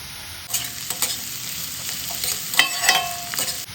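Chopped green chili and ginger hit hot oil in a pan for sago khichdi, giving a sudden sizzle followed by steady frying crackle and a few spatula scrapes and stirs.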